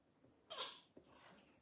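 A single short sneeze, sharp and close, followed by a softer breathy sound, in a quiet indoor room.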